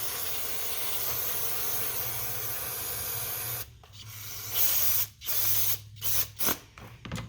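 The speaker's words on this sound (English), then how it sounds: "Spray a little bit everywhere." Steady aerosol spray of carburetor cleaner hissing for several seconds onto an Edelbrock carburetor from a 1983 Buick Regal, then a string of short spray bursts separated by brief pauses, close and fairly loud.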